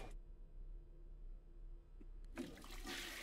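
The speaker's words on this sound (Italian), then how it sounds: "tira lo sciacquone" A toilet flushes in a hotel bathroom, a quiet low hum before a sudden rushing gush of water that starts sharply and continues at steady strength to the end.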